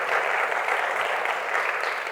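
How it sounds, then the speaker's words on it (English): Audience applause at a historical talk, honoring a World War II veteran seated among the listeners: steady, even clapping from a crowd, sustained at a constant level throughout. "please give him a big round of applause"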